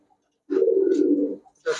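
A red plain pigeon gives one low, sustained coo lasting about a second, close and clear against a quiet background, followed by the start of another call.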